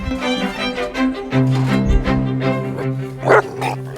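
Several puppies bark and yip in quick, overlapping bursts nearby, with high-pitched whimpers mixed in.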